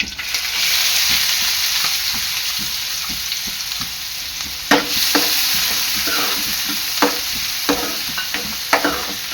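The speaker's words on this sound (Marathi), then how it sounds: "कांदा आहे ना आपला चांगला लाल होईपर्यंत शिजवून घ्यायचा आहे" Chopped onion fries with cumin and curry leaves in a pan, a continuous close sizzle with occasional scraping and stirring clicks from a spoon.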